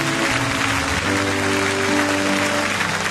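A church congregation applauds continuously, a dense steady wash of clapping from many hands with some sustained music tones underneath, no speech.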